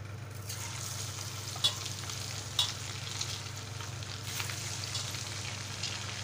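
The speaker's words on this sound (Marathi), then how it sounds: "वडे घातले तेलात, ते आता आपण फ्राय करू देऊया" Rice vadas fry in oil in a wok, giving a steady, moderate bubbling sizzle throughout, broken by two sharp clinks early on, with no talking.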